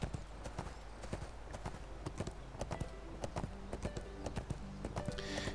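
A horse-like mount in the video game ArcheAge, its hooves clip-clopping in a steady, quick rhythm, fairly faint and continuous throughout.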